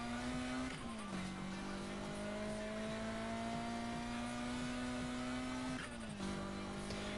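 A racing video game car holds a loud, steady engine whine at full throttle, dropping briefly at two gear shifts before climbing again.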